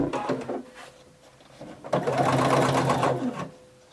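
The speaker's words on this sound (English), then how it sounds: "you're just going to stitch them together." A sewing machine stitching the overlapped ends of dress elastic together, about a quarter inch of overlap. It gives a short whirring run, a pause, then a longer, steady, close burst of stitching.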